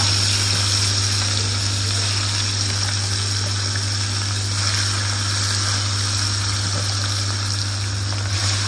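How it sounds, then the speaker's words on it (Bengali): Rohu fish frying in hot oil, a steady close sizzle with a constant low hum underneath, continuous and even throughout, with no talking. "তেলের ভিতরে মাছটা ফ্রাই করে নিই।"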